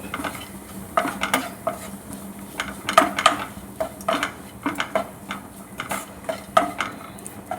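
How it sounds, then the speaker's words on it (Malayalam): Onions with ground pepper stirred in a pan for prawn biryani: a rhythmic run of metal spoon scrapes and clinks against the pan over a low sizzle, the strokes repeating steadily and close by. "നല്ലവണ്ണം ഇളക്കി ആ ഉള്ളിയൊക്കെ ആയിട്ടൊന്ന് വഴന്ന് വരും വരം വരെ ഇളക്കി കൊടുക്കുക"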